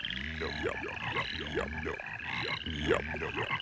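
A cartoon toad, the Wisdom Toad from a Babar animated episode, croaks in a steady, rapid rattling pulse, with moderate loudness and no talking over it.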